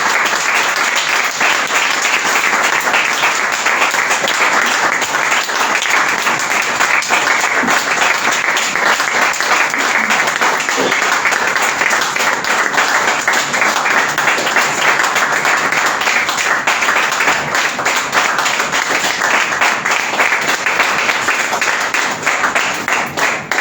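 A church conference audience applauds and cheers in acclamation at a prophetic gathering, a long unbroken wall of loud, dense clapping that holds steady for over twenty seconds.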